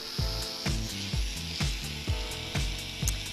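An electric nail drill files down an acrylic or gel overlay during nail wrap removal, grinding close up in steady repeated passes about every half second, with no talking.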